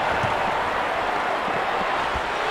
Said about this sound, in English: the crowd is starting to come alive.